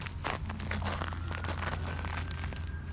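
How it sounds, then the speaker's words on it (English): Grass and plants coated in ice after an ice storm crackle and snap up close, a quiet run of crisp, brittle crunches and crinkles with no talking. "Each blade is like completely frozen. They snap."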